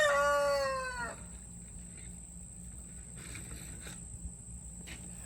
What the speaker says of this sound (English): The chicken's going to get a treat.